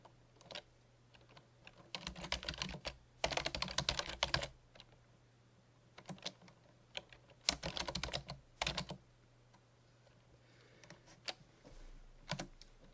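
Bursts of rapid computer keyboard typing come in clusters separated by short pauses, close and clear over a faint steady hum, while text is entered in a LibreOffice document.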